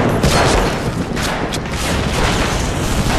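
Dense, continuous gunfire and booming blasts from bunkers on a Medal of Honor battlefield, a loud unbroken wall of shots and explosions.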